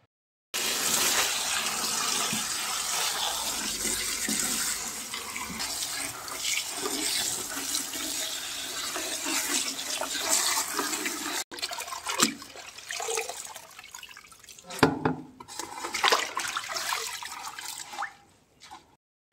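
Amaranth (chaulai) greens are washed in water, with a steady loud gush of running water for most of the stretch, then sloshing and splashing as the leaves are swished and lifted.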